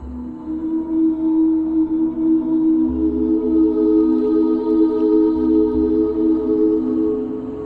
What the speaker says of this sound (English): almost like somebody dragging their fingers over a wine glass